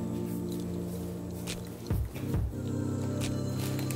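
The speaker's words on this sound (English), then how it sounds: "Now I'm just gonna stir the coffee grounds just a little bit to make sure they all get wet." Coffee grounds being stirred into water inside a cold brew bag in a Toddy cold brew system, heard as a few soft, wet squishing swirls near the middle over a steady background hum.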